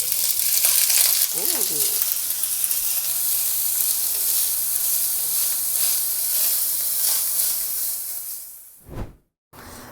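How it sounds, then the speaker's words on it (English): Chickpeas sizzle and fry in a glug of olive oil in a hot pan on the stove, a steady loud crackling hiss throughout, with a brief exclamation near the start and a sudden cutoff near the end. "Want a nice glug of olive oil in our pan, and then we'll add our chickpeas."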